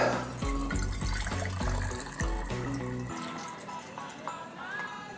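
Keto old fashioned mix pours through a funnel into a bottle, a close gurgling trickle that thins into a lighter splashing dribble toward the end.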